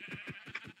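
A sheep bleating in a video game, a short, faint, wavering series of four quick pulses, heard alone.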